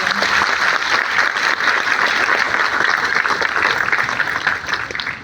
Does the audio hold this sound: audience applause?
yes